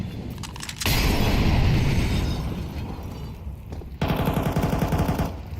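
MP9 submachine gun fire in Counter-Strike, two loud sustained bursts of rapid automatic shots with a short pause between them.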